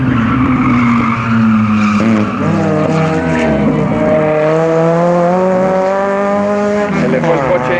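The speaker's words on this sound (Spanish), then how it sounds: "Se le fue el coche." Race car tires squeal and skid loudly as the car loses control during a race, a long sustained shriek with shifting pitch and engine noise mixed in, close and dominant throughout.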